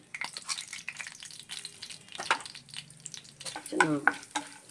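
Chana dal sizzles and crackles in hot oil in a pan, a busy frying hiss with stirring scrapes and clinks, fairly close and moderately loud.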